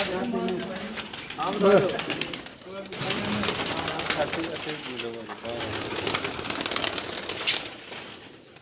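Pigeons of an old breed on a rooftop loft, giving soft repeated coos with bursts of wing flapping, under close, lively conversation between men.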